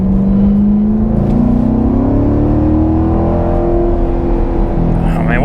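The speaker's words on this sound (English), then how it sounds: "Isn't it fun driving a manual transmission and recording?" A car with a manual transmission accelerates close by, its engine droning steadily and rising in pitch as it pulls through a gear, loud and continuous inside the cabin.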